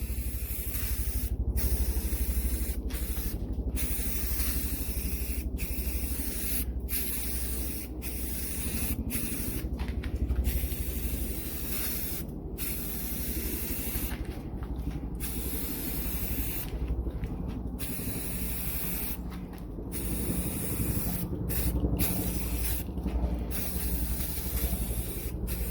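A can of spray paint puts a coat on a homemade picture frame in repeated hissing bursts, a steady close spray broken by short pauses between passes.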